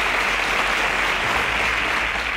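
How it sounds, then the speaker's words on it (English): Studio audience gives a steady round of clapping at a Nigerian quiz show, even and sustained throughout. "Round of applause for them."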